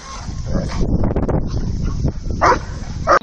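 A dog barks and grumbles up close in a short burst, with rough, rapid yelps and whines.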